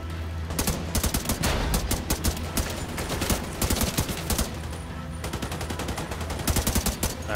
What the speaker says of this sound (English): Keep firing and take them out.